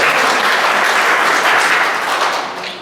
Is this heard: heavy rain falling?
no